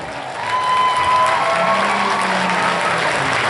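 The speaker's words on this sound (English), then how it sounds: "Let's give a round of applause for all of our drifters so far" A crowd at an Evergreen Drift evening event in Monroe applauds the drifters, a loud sustained wash of clapping with a faint tonal whine running through it.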